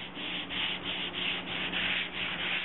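A soft sanding block rubs guide coat along the body line of a 1957 GMC, a steady, close, rhythmic scraping of back-and-forth strokes with no voices.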